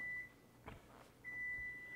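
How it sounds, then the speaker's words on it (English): A kitchen timer beeps in a wok kitchen during a stir fry, one thin, faint electronic tone that sounds briefly, pauses for a soft clatter, then sounds again and holds, with no talk over it. "our timer's going off"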